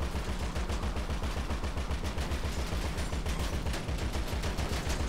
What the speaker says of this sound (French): je lui ai mis une balle de revolver